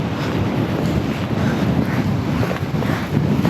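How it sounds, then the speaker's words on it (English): Steady, heavy wind roars across the microphone in a constant low rumble, loud and unbroken, with no talking, on a cold, rainy shore while land-based lure fishing near Cairns. "Oh my God, it's so windy."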